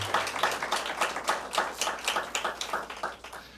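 A small audience at a Detroit business awards event claps in a sparse, uneven patter, individual hand claps distinct and fairly quiet, fading slightly toward the end without voices.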